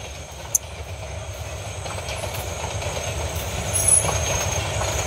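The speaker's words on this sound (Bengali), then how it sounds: "কত সুন্দর দেখা যায় রাত্রেবেলা ট্রেনটা" A night train from Mohanganj rolls past with a steady rumble and rhythmic clatter of wheels that builds slightly louder, plus one sharp click early on and faint high squeals.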